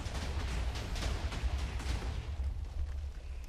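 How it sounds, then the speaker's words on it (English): A continuous rumbling roar of many overlapping TNT explosions in a video game, booming and crackling in a dense, unbroken barrage, fairly faint overall. "we just wait for the majority of the TNT to blow out of the way"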